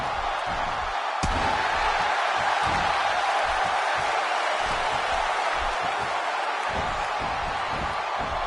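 An amateur wrestling arena crowd roars in a continuous, dense wash of cheering and noise that holds steady throughout, with one sharp slam-like crack early on.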